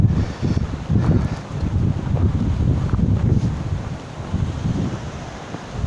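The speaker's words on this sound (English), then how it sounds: "Strong wind is kind of coming from, let me figure it out. It's coming from the northeast." Strong gusty wind from the northeast buffets the microphone outdoors, a steady loud low rumble with surging gusts throughout and no one speaking.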